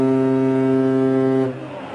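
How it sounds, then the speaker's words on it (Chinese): A Chinese fishing boat at sea near a Japanese patrol vessel off the Diaoyu Islands sounds its horn: one loud, steady, deep blast that holds for about a second and a half, then cuts off, leaving low background noise. "之后敏俊鱼号鸣笛驶走"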